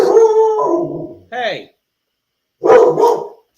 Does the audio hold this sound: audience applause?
no